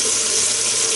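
Tap water running steadily onto a shaving brush at a sink, a close, loud, continuous splashing hiss with no pauses and no talk.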